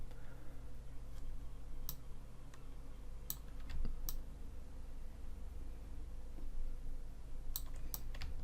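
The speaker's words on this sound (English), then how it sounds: "I'm just going to click the divide button" Scattered mouse clicks at a computer during 3D sculpting work, sharp isolated taps a few seconds apart over a low steady room hum.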